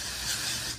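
Dry shampoo sprayed from an aerosol can onto hair: one short, steady, close hiss lasting under a second, fading at the end.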